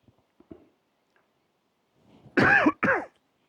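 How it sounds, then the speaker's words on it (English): A man coughs twice in quick succession, loud and close, after a few faint clicks and near silence, in the Flinders Ranges outback. "Coughing husband."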